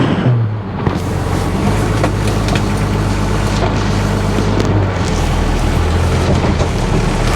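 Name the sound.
old Toyota truck driving off-road in two-wheel drive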